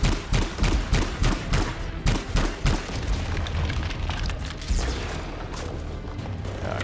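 Grenade blasts and gunfire in the Anthem video game: a string of rhythmic booming explosions and shots up front, then a steadier rumble of firing and blasts, loud and close with no talk over it.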